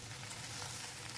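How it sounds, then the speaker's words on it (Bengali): Okra fries in hot oil in a wok, a soft continuous sizzle, faint and steady, with no voices. "কড়াইতে দিয়ে দিয়েছি তেল, দিয়ে ভেন্ডিগুলোকে আগে ভালো করে একটু ভেজে নেব"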